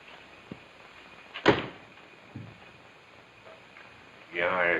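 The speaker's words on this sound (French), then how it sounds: "La porte!" A door slams once, sharply and near, amid quiet room tone with a few small knocks, followed by a burst of noisy rustling at the end.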